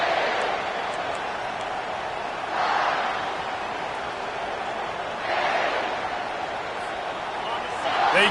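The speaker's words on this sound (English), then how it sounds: "They challenge this crowd to bring the energy, and I'd say they're doing that." Football stadium crowd cheering, a broad distant roar that swells in waves under a commentator's continuous talk.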